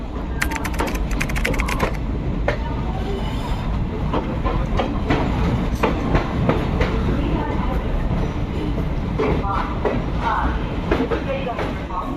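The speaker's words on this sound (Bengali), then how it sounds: "দেখি আমাদের ট্রেন প্রবেশ করছে গৌহাটি রেলওয়ে স্টেশনে" Kanchanjunga Express pulling into Guwahati railway station: a steady rumble of a moving train with a run of quick clattering clicks near the start, holding at one loud level throughout.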